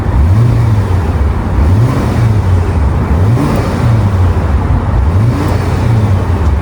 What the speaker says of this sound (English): possibly give it a custom exhaust setup because just listen to how quiet this thing is